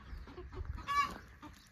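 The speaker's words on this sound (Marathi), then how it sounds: "आपण पिल्लं सोडलेली आता आणि कोंबड्या पण सोडल्या होत्या पण कोंबड्या आता बाहेर येतात" Chickens cluck softly close by, a few short clucks and one brief squawk over quiet background.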